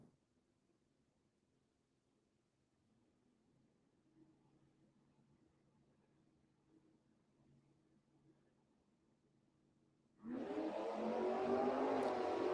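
Drag racing car on a qualifying run at a dragstrip, a faint distant engine hum building slowly before a loud, broadband roar of the car launching and accelerating hard bursts in near the end.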